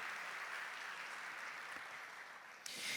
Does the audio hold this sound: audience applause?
yes